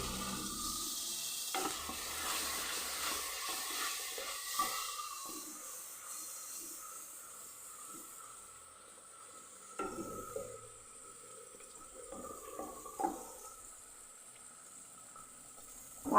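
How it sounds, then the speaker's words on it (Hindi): Masala for a chana curry sizzles and bubbles in a pan after a splash of water is added, with stirring scrapes and a steady frying hiss that rises in brief bursts, no talk. "पानी मैंने थोड़ा सा ऐड कर दिया ताकि मसाले का कच्चापन ख़त्म हो जाए"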